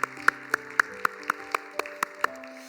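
A church youth worship congregation claps in a steady beat, about ten evenly spaced sharp claps over sustained musical tones as the service opens.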